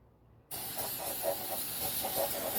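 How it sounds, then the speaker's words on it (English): After a brief quiet moment, a steady loud hiss of fluid spraying off a freshly honed engine block cylinder starts abruptly and continues without pause. "But let's go ahead and spray this off."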